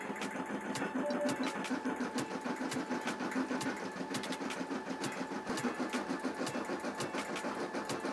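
An embroidery machine stitches a design in steady, rapid mechanical rhythm, its needle pulses running continuously and fairly close with no talking.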